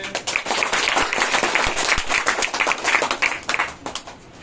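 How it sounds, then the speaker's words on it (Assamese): Loud, dense clapping from a school audience at an Assam government school event, sustained and steady throughout without pause. "জোৰেকে হাত চাপৰি হ'ব লাগে"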